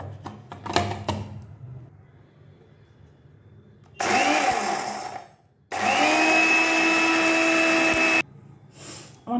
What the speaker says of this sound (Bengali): আমার এটা মশলা গুঁড়ো করার মিক্সি, এটা এর মধ্যে আমি দিয়ে দেবো।